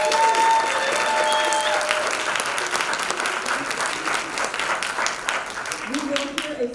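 Sustained audience applause fills a university graduate school Three Minute Thesis competition hall, steady and dense throughout, with voices heard faintly under it and a speaker starting near the end.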